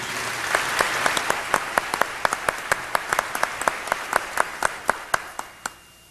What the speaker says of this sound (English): Let's have a round of applause for George Phoenix